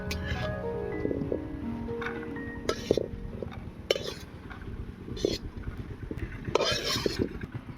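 Fried cashews and raisins are lifted out of a pan with a spoon during Eid jorda semai cooking, giving scattered clinks and scrapes against metal over a faint sizzle, close and moderately quiet.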